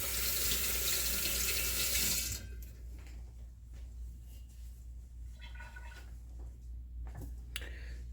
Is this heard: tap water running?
yes